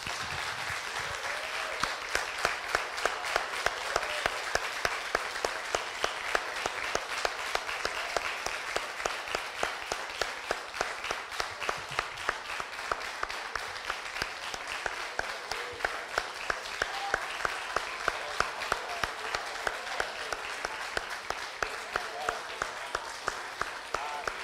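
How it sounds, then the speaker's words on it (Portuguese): A church congregation applauding loudly and strongly, a dense, rhythmic, sustained clapping that runs throughout with a voice occasionally heard over it. "as nossas palmas têm que ser maiores, mais fortes, com mais intensidade"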